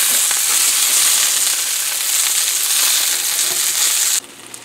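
Turkey sausage breakfast patties sizzle steadily in a hot pan, a dense, loud crackling hiss that runs unbroken for about four seconds before dropping off sharply to a quieter sputter.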